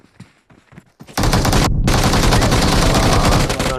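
Rapid automatic gunfire in the mobile battle royale game BGMI, a few faint shots at first, then a loud, sustained burst of fire that breaks briefly and resumes, continuing to the end.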